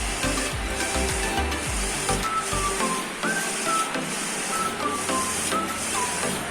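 An Innovatec 60 cm eco-solvent printer running a print simulation without ink installed: a steady mechanical whir of the moving print carriage, with rhythmic shuttling and faint electronic chirps, close and continuous, and no voices.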